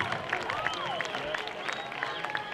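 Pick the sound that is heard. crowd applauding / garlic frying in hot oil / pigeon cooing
crowd applauding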